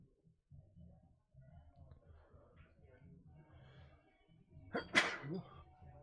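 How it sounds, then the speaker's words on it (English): A single sharp sneeze bursts out near the end, following a stretch of quiet, low murmuring talk. "Had to sneeze."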